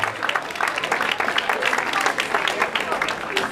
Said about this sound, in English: Come on, give him a big round of applause